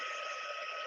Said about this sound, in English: I'm just going to bring in my heat gun and hopefully not burn myself.